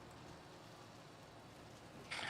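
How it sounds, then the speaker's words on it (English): Steady freezing rain falls outside near a forest work site, a soft continuous hiss at low level with no pauses, heard from indoors and with no talk. "I keep looking out over here because it keeps raining."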